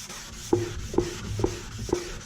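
Four rhythmic rubbing strokes of 600-grit sandpaper on motorcycle paint with a guide coat, close and moderately quiet, with no voices.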